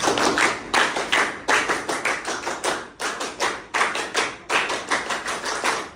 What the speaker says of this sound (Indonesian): untuk ice breaking kita 2 kali tepuk pramuka